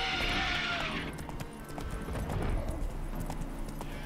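Horse hooves clip-clop at a gallop in The Witcher 3, a steady rhythmic drumming, close and fairly loud, with game ambience and a brief rising whinny-like tone at the start.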